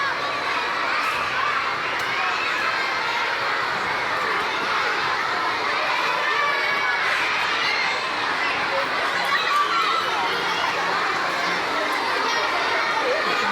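Many children shouting and playing outside a school on a hot afternoon, a dense, steady crowd roar of young voices and shrieks that stays loud and unbroken throughout.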